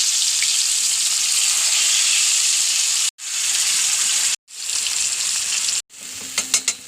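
Loud, steady sizzling of fish frying in hot oil, close up, interrupted by a few brief cuts, with light clinks at the end.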